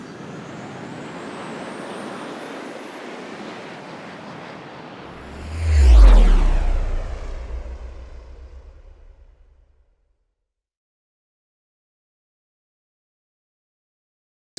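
A passing aircraft swells from a low rumble to a loud roar around the middle, with a falling whine as it sweeps by, then fades away into silence.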